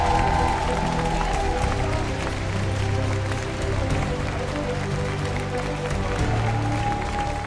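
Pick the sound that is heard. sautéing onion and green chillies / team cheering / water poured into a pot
team cheering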